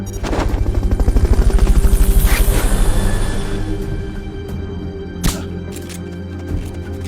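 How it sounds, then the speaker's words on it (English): A helicopter in the video game Metal Gear Solid Peace Walker thumps loudly with rapid, pulsing rotor beats that fade somewhat after a few seconds, with a sharp impact near the middle and faint game sounds after. "Fulton recovery subject confirmed onboard helicopter"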